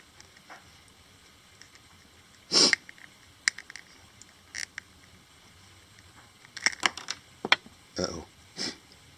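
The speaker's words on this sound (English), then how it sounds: "So excuse the sniffling." A person sniffles repeatedly at home, a series of short, sharp nasal sniffs: one strong sniff early on, a few isolated ones, then a quick cluster of sniffs near the end, close and fairly loud against a quiet room.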